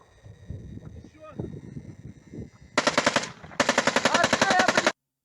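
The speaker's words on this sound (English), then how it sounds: "We can also see the soldier at the end of the video firing off his automatic rifle." A soldier fires an automatic rifle in Ukraine: two loud close bursts of rapid rhythmic shots, each lasting about a second, after a stretch of low rumbling background noise.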